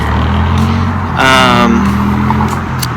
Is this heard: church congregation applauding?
no